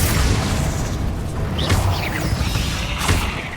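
A Confringo fire spell in the Hogwarts Legacy video game bursts with booming blasts and whooshing impacts, a loud dense rumble with a few sharp swishes over continuous background game sound.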